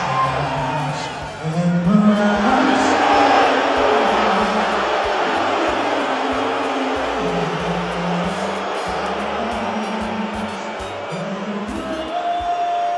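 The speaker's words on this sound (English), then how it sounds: "I wonder what they're booing at." A large crowd roars and jeers continuously at close range, a dense wash of voices swelling and sustained throughout with no pauses.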